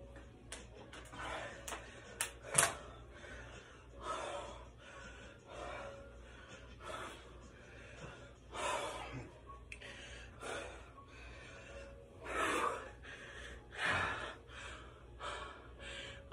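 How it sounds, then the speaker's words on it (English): Heavy, labored breathing from someone out of breath after a hard leg workout, with repeated gasping inhales and exhales in loose rhythm, close and fairly quiet, no talking. "Out of breath."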